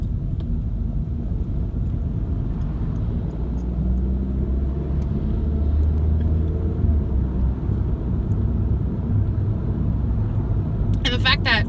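Low, steady engine and road rumble inside a moving car, a constant drone throughout with a brief higher rattle near the end.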